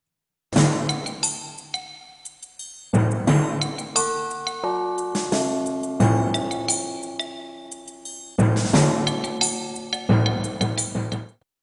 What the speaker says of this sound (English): here's what a group of percussion instruments sounds like.